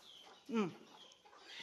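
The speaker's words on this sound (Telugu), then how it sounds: "ఆ కోళ్ళు పట్టుకో జగనన్న" A single brief country chicken cluck stands out over a low, noisy background on a native poultry farm.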